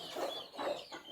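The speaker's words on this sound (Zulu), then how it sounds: "Ngapha lapha sifuya amathiya." Farmyard chickens cluck nearby in three short, rhythmic bursts, fairly soft and close, with no talking over them.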